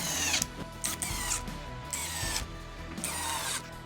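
A power drill driving 1.25 inch screws into a wooden planter box, close whirring bursts in an uneven rhythm of about four pulses with short pauses between, no talk.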